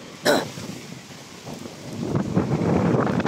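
Strong wind gusts buffeting the microphone outdoors at a garden reunion venue, with a sharp thump early on and then a steady, rising rush of broadband wind noise that fills the rest of the clip.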